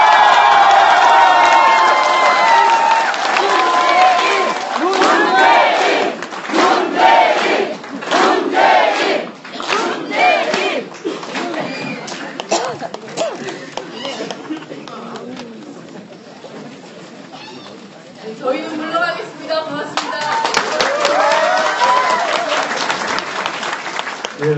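A large crowd at a welcome event for new party members in Busan cheers loudly for Moon Jae-in, with sustained roaring, shouting and applause that rises and falls in waves over about twenty-five seconds.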